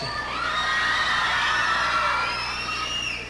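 An awards-ceremony audience at the TVyNovelas special awards shouts and cheers in one sustained, loud wave of crowd noise that swells and then eases slightly toward the end.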